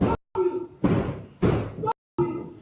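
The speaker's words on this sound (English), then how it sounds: "Stop kicking the door." Several heavy thuds from someone kicking a door during an arrest, coming in uneven blows a fraction of a second apart, loud and close, with voices and shouting mixed among them.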